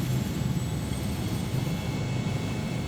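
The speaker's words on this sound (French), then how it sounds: "l'hélicoptère est prêt à décoller" A helicopter at Hyères air base before takeoff gives a steady, loud, close engine and rotor roar with a low rumbling throb.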